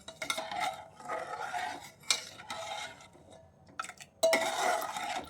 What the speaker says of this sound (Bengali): গুড় দিয়ে এরকম নাড়াচাড়া করে দেব দুধটা